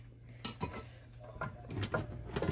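Cinnamon roll ingredients being mixed in a mixing bowl, giving scattered clinks and scrapes of a utensil against the bowl over a low steady hum, with a few sharper knocks near the end.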